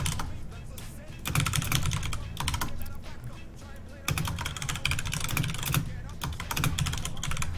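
Loud, rapid typing on a computer keyboard, with dense clattering bursts broken by short pauses, close and prominent.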